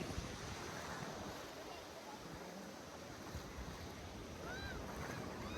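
Ocean waves breaking on a beach, a steady wash of surf with wind buffeting the microphone throughout, heard up close without speech.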